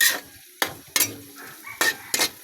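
Adobong tarukog is stirred in a pan over a soft sizzle, with five sharp scraping strokes at irregular intervals and quiet frying between them.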